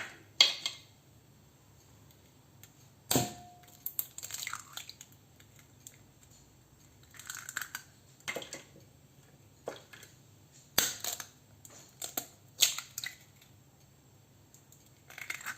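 An egg cracked and broken into a bowl for French toast: a sharp crack followed by soft wet squishes and drips, with several other small kitchen clinks and taps spread out over a quiet room.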